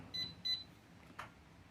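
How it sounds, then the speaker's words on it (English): The beeper on a Jazzy 24V lithium-ion power wheelchair, used as a horn, giving two short, quiet high-pitched beeps in quick succession, followed by a faint click. "I can call that a beeper instead of a horn"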